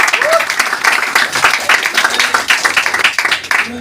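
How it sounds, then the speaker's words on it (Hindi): An audience at a motivational seminar breaks into lively, sustained applause, dense clapping from a crowd with voices rising over it. "उपाध्याय सर के लिए जबरदस्त ताली होना चाहिए"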